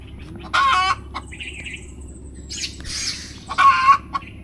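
Two loud bursts of squawking clucks from chickens nearby in a village poultry shed, separated by a quieter stretch with a few softer calls over a low steady hum.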